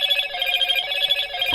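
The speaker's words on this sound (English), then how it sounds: "Let's do a little test phone call." A Motorola Razr Ultra 2025 rings for an incoming test call, a loud, steady electronic ringtone with a pulsing warble, close and continuous throughout.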